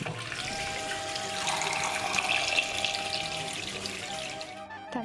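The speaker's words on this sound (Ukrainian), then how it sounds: "Заливаємо яйця холодною водою." Cold water runs from a tap over just-boiled eggs in a kitchen, a steady splashing stream at moderate volume that swells briefly midway and cuts off near the end.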